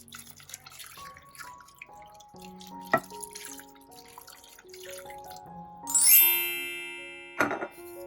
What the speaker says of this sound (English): So I'm gonna add the water.